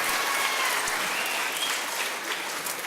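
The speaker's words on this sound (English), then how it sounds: "Let's have one more round of applause for the Select Women's Chorus and Mr. Vihan and our wonderful accompanist." An audience at a Christmas concert applauds the select women's chorus with steady, dense clapping that fills the hall evenly throughout.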